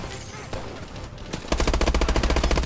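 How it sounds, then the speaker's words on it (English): Gunfire in the video game Call of Duty: Advanced Warfare, a rapid, steady automatic burst that starts abruptly partway through and stays loud over a busy background of distant shots. "Oh, who's shooting at me now?"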